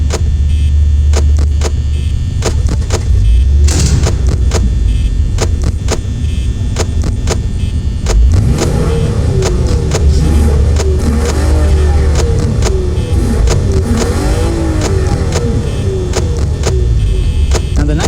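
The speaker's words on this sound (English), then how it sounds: "let's fire up that old V6 and then tried and true V6 and see how it sounds" An old V6 car engine cranking, catching and revving, a steady loud rumble with sharp rev spikes and a pitch rise partway through.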